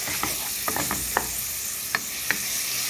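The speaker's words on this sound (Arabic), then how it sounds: "نحط البصل هنشوحه بس، يعني البصل هيتشوح بس مش هنحمر" Onions sauté in a pan as a constant sizzling hiss, with a handful of sharp crackles and stirring taps spaced irregularly, close up and with no speech.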